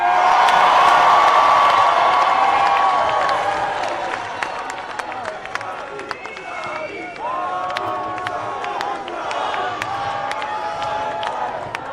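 A large rally crowd at the March for Israel in Washington applauds and cheers, a dense roar that thins into scattered claps and whoops with a voice ringing out over it.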